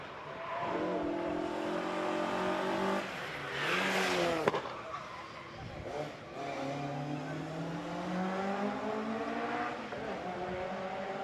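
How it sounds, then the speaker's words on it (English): A Ford Escort race car at a rally stage in Victoria Park roars past, its engine climbing and falling through gear changes as it nears and pulls away, loud and sustained. "Through goes Cox in the Ford Escort"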